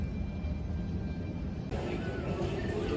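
Embraer E175 airliner sitting before departure, its engines giving a steady, broadband whine and rumble that swells a little louder partway through, heard from inside the cabin.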